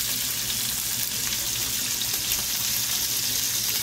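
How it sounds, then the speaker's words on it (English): Wagyu steak sears in a hot pan, a continuous close sizzle and crackle with steady intensity and no talking over it. "We're looking for that nice caramelization and a perfectly seared steak."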